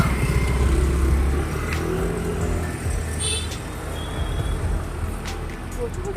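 Vehicles come and go on a street in light rain, giving a steady, fairly loud traffic rumble with engines passing close by and a brief high tone partway through.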